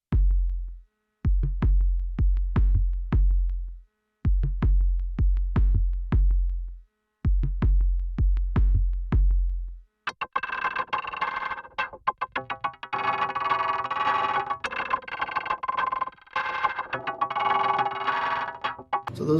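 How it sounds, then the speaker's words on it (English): Percussion loops from the Delicata sample library: several short rhythmic loops of booming, clicky hits with gaps between them, followed by a denser, busier textured percussion loop with metallic rattles and tonal layers. "The percussion is broken into loops and one-shots."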